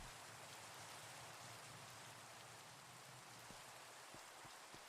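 Steady rain falls in the Minecraft world, an even, soft patter of drops that holds constant throughout with no talking over it.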